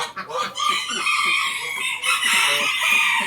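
Bantam roosters of the Thai Tom Tam Khon Kaen type crow repeatedly on a farm, shrill overlapping calls close by and loud, with clucking between them.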